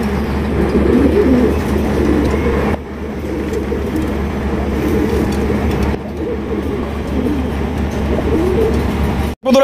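A pair of white Indian Bombay pigeons coo repeatedly in soft, rhythmic low calls close by, with a steady background hum and a couple of brief breaks in the sound.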